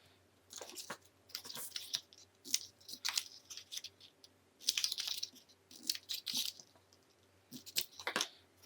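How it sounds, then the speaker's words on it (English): Scissors trim the corners off card pieces for a 3D light-up fairy boutique card, making a series of short, close, crisp snips and paper crunches in irregular bursts with pauses between them. "I want to trim these corners."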